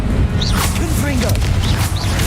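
Fire-blast spell blasts in the video game Hogwarts Legacy, booming whooshes and crashing impacts over steady game ambience, with short swooping tonal effects, loud and busy throughout.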